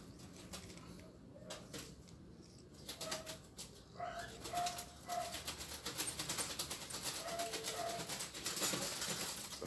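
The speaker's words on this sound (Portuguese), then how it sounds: "São os pássaros da minha mãe fazendo barulho de novo" Pet birds fuss nearby with a burst of wing flapping, short coos and chirps, and scattered clicks, busier and louder toward the end, with no talking.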